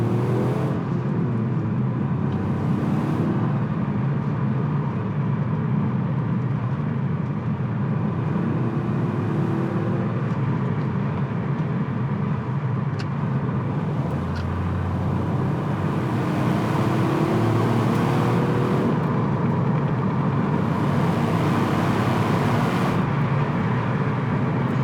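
A Toyota GR sports car driving on open roads, its engine droning steadily from inside the cabin with occasional rises as it accelerates, alongside continuous road and wind noise.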